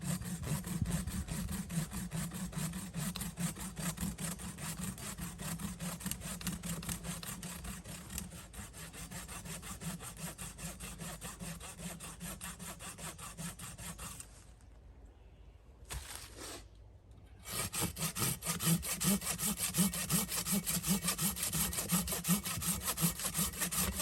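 A Fiskars 18-inch machete saw cuts through wood in rapid back-and-forth strokes, a rasping rhythmic scrape heard up close that briefly pauses before resuming hard and steady.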